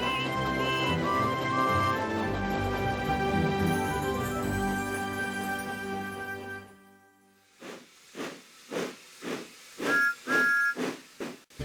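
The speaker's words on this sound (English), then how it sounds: "Who's that puffing down the track? It's Thomas!" Thomas the Tank Engine, a cartoon steam locomotive, is heard first under bright music with whistle tones, then alone as a run of loud, rhythmic steam puffs with short whistling hoots between them.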